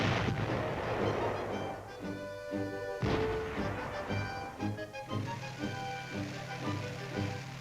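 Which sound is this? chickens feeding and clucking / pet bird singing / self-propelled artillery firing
self-propelled artillery firing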